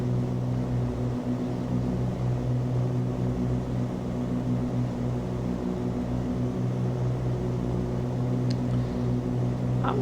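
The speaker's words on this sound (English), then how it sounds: "The engine, I think, is awfully loud for me" Steady, loud engine drone of a Cessna 414 (C414AW) twin in a flight simulator, a constant tonal hum with low harmonic bands that stays unchanged throughout, with no talking.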